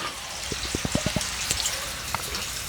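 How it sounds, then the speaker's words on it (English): A film's faucet-like blood drip sound effect plays as a rapid run of hollow, watery plinks, about eight drops in quick succession, then a few scattered ones, fairly quiet and with no talking over them. "That faucet sounding blood drip is back."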